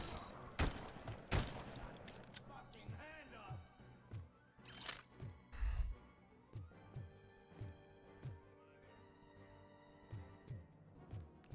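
Gunfire in the video game RoboCop Rogue City: sharp shots and bursts crack out over a busy game soundtrack, with someone talking intermittently underneath.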